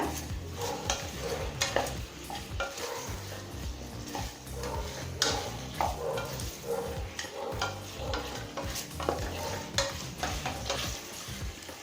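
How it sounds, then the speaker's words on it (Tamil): Chicken pieces for Ambur biryani sautéing in a pan, a steady sizzle broken by frequent scraping and clinking stirs of a spoon against the metal, close and uninterrupted by talk. "இப்போ 5 நிமிஷம் வரைக்கும் சிக்கனை நல்லா வதக்கியாச்சுங்க."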